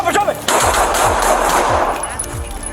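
Several loud gunshots fire in quick succession during a police confrontation with an armed man, roughly evenly spaced, over a continuous background roar.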